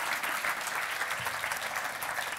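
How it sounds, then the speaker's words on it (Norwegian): An audience at a climate breakfast event in Bergen, Norway, claps steadily for a speaker, a dense, even wash of applause filling the whole stretch at full level with no voices over it. "Applaus til Alf Ole."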